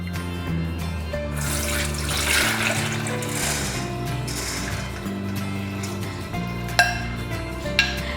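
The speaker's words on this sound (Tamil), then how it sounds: "ஸோ ஒரு ஸ்ட்ரெயினரில் வந்து நம்ம வடிகட்டிக்கலாம்" Water pours and trickles steadily as washed sago drains through a kitchen strainer, with a couple of sharp clinks of metal near the end; no one speaks.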